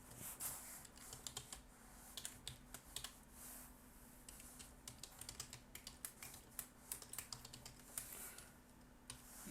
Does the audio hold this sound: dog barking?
no